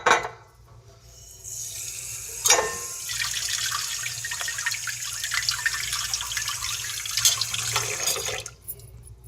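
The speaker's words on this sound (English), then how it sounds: "So let's rinse the eggplant." Eggplant being rinsed under a running kitchen tap, a steady broadband rush of water hitting the sink that carries on for several seconds with a couple of louder splashes, close and alone with no talking.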